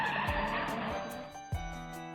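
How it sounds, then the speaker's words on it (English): Car speeding off as a visual novel game sound effect: a quick engine roar with skidding tire squeal, fairly loud and close, with a sharp second burst near the end. "we take off, the car racing forward."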